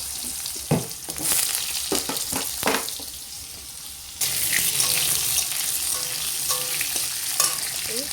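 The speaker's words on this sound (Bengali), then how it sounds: "প্রথমে আলুগুলো দিয়ে ভালো করে ভেজে নেব" Potatoes fry in a pan with black cumin, a steady sizzle interrupted by sharp scraping stirs, then a louder, brighter hiss swells midway and stays strong, with no one speaking.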